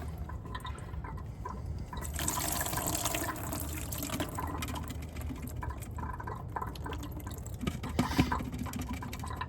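Water draining out of an opened water filter housing in a Dynamax Isata 5 RV being winterized: a steady close trickle and splashing, with a few drips and small clunks, no talking.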